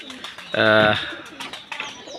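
A single pigeon coos briefly and close by in a pigeon loft, with faint shuffling and light background noise around it.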